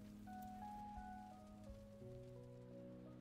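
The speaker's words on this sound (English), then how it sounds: "So now it's raining and obviously the rain gets through." Steady rain falling in a video game building scene, a constant hiss of drops on surfaces under sustained tonal music, with no talking.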